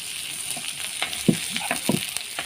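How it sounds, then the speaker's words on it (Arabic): Chicken gizzards frying in a pan with softened onion and garlic, giving a steady low sizzle broken by a few soft stirring clacks and scrapes, close and fairly quiet with no talking. "وبعد البصله ما دبلت كده يا حبايبي والثومه، هنبدا ننزل بالقوانص"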